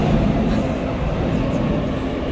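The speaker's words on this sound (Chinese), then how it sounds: "转个镜头我们就已经坐这个 MRT 了" Inside a moving MRT metro train in Kaohsiung, Taiwan, a loud, continuous low rumble and rushing noise fills the space, with no clear breaks or distinct events.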